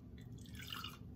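Water drips and trickles back down after being scooped up from a well with a wheel-and-axle bucket; a quiet, close patter of drops lasting about a second.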